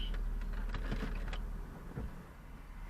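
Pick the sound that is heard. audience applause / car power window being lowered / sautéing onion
car power window being lowered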